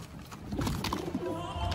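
Girebaz pigeons cooing close by, soft throaty coos rising and falling in short bursts over faint background rustle and noise.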